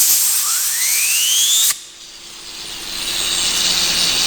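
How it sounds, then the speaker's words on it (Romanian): An angle grinder whines high and loud as it spins down with a rising pitch, then cuts off abruptly, leaving a quieter background hiss. "Și Dani a oprit flexul, uite."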